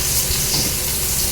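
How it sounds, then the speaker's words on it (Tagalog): Sliced onions sizzle and fry in a hot pan, a dense, steady crackling hiss that fills the short moment without pause. "So ilalagay ko na siya doon sa kawali na mainit na nilagyan ko na ng"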